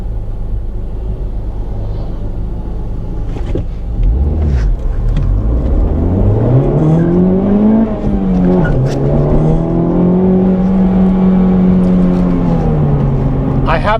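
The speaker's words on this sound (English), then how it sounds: "I'm just going to show you a quick, not really a full launch, but kind of how this car delivers power." A tuned Honda Civic Type R running map 3 pulls hard from a short launch, its loud engine note climbing and holding a rising, steady drone close by, with a brief rev blip before.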